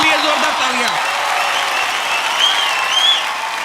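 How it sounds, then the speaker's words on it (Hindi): An audience at the IIFA 2023 awards show claps in a dense, sustained burst of applause, with a faint voice briefly heard over it at the start. "माधुरी दीक्षित जी के लिए जोरदार तालियां।"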